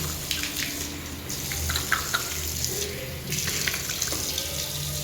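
Tap water running into a sink while a face is washed with hand soap, a loud, close, continuous splashing stream with small surges as hands move through it, and no talk.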